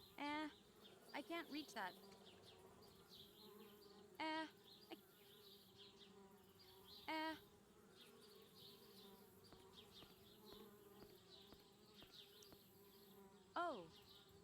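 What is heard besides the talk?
bees buzzing at a tree house in Anna's Quest video game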